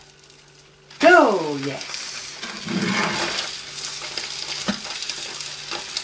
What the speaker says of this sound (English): then I'm going to put it in the frying pan and make a omelette